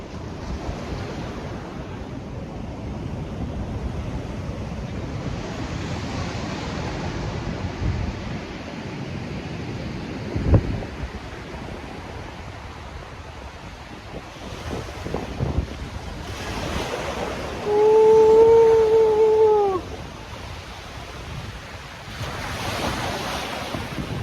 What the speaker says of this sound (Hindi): वेव बहुत ज़्यादा स्ट्रॉन्ग है